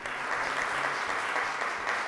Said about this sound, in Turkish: Alkışlarla alıyoruz